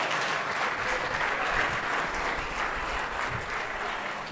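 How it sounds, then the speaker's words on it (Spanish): A church congregation claps loudly and steadily throughout, a dense wash of applause with no pauses and no talk over it. "Venga para el Señor las palmas fuertes en esta tarde"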